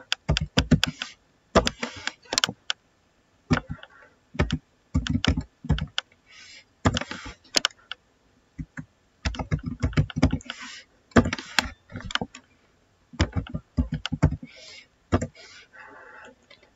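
Keys clatter on a computer keyboard as names are typed into an MS Word document, coming in quick bursts of clicks separated by short pauses, close and fairly quiet, with no voice over it.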